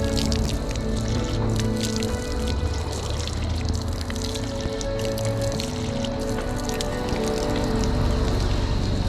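Fresh water flows steadily in a stream in Himachal, a continuous close-up rushing and trickling wash with no pauses, heard alone with no one talking over it.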